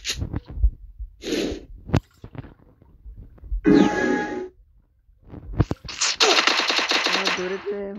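Rapid gunfire bursts from a video game, loud and close, with a sustained automatic volley near the end and scattered shorter shots and clatter earlier.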